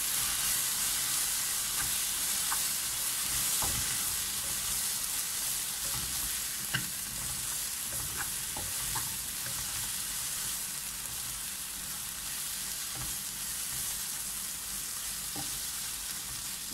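Spicy hot sausage sizzles steadily in a pan while being stirred, with scattered scraping clicks of the utensil over a continuous hiss and no voices.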